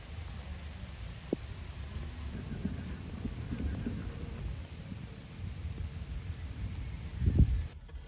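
Steady rain falls outdoors beside animal cages where cows stand, a soft continuous patter with low rumbling, a brief louder burst near the end and faint voices in the background.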